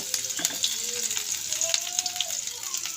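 Heated water poured into a frying pan during home cooking, sizzling and bubbling close by with clinks of a utensil stirring, fairly quiet and unbroken.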